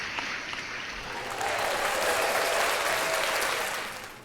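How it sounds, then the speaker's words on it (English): Loud, dense applause swells from a crowd-like burst of clapping used as a podcast sound effect, building over the first second and holding steady before tapering slightly at the end. "Loud and obnoxious claps for no reason"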